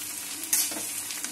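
Garlic paste frying in a pan for a Bengali mutton curry, giving a steady bright sizzle with a few soft stirring scrapes and clicks, close and alone without voices.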